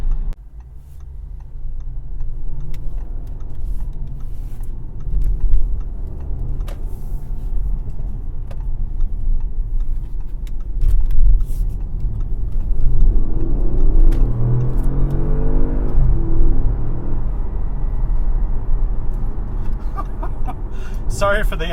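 Low, steady road rumble and muted engine drone fill the cabin of a 2016 Audi S7 driven in dynamic mode, staying subdued throughout, with a voice present at times.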